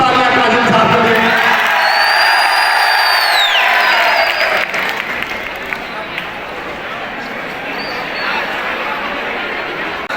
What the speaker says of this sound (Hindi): जोरदार तालियां काजिम साहब के लिए।